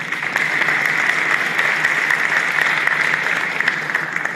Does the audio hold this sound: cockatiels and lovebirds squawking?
no